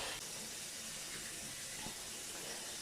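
A tap runs continuously into a small washroom sink during rinsing, a soft, steady stream of water heard faintly and alone.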